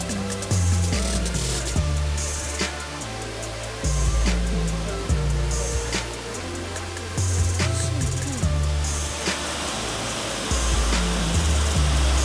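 A Hawaiian waterfall roars in a loud, steady rush of water throughout, with deep rumbling thumps and gusts layered underneath and no talking.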